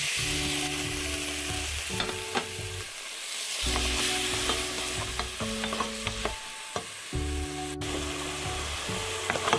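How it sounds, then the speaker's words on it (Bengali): Mixed vegetables with garlic stir-fry in a pan, a continuous close sizzle broken by rhythmic scraping and clacking as a utensil turns them, with several brief pauses between strokes; no voices. "খুব ভালো করে সবজিটাকে কষিয়ে নিচ্ছি।"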